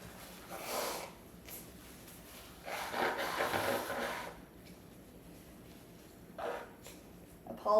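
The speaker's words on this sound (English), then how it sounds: "I'm gonna take a second to blow my nose off camera." Several short, breathy nose blows and snorts come in separate bursts, the longest in the middle, with quiet pauses between and no talking.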